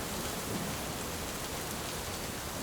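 Steady rain patters down evenly, a soft continuous hiss with no voices, constant throughout.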